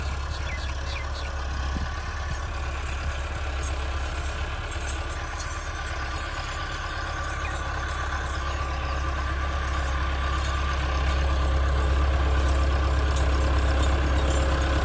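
A Massey Ferguson MF 385 tractor engine runs at a steady idle, a loud, constant low diesel rumble close by that continues without a break.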